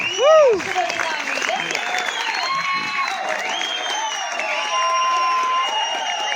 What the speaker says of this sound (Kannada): ಒಂದು ಜೋರಾದ ಚಪ್ಪಾಳೆ ಬರಲಿ